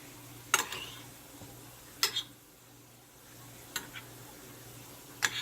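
Seasoning and garlic being mixed over fish and vegetables, heard as four short spoon scrapes and clinks spaced about a second and a half apart, close and fairly quiet over a low steady hum.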